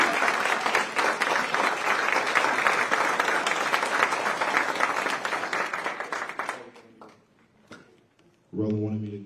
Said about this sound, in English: Give him a St. Louis round of applause.